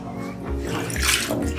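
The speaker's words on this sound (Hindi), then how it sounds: "और इसको पानी में डिप करेंगे।" Breaded boneless chicken thigh is dipped into water, making brief close-up sloshing and splashing sounds.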